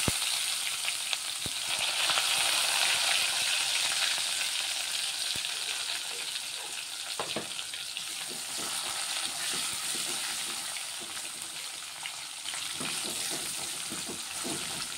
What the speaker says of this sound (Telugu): ఈ ఉల్లిగడ్డలు కొంచెం ఫ్రై అవ్వాలి.